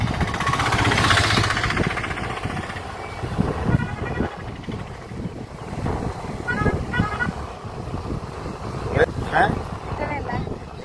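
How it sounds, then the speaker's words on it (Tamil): A scooter engine runs during a riding practice session, giving a low, steady hum under heavy wind buffeting while people talk over it. "வண்டி ஸ்மூத்தா நல்லா போகுது."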